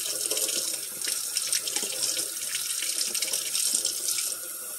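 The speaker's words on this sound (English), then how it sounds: "Let the water run cold for a minute." Tap water pours steadily into a sink, a constant hissing splash with no pauses, close by and fairly loud throughout.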